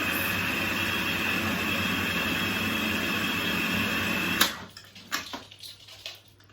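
A food processor whirs at full speed blending a vegan brownie mix of nuts and dark chocolate, a loud steady motor drone that cuts off abruptly, followed by a few clunks and rattles as the machine settles.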